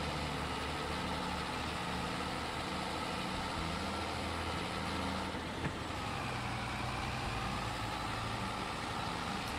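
A heavy truck engine in Farming Simulator 22 drones steadily under a heavy load, low and loud throughout, with a deep laboring rumble and no voices.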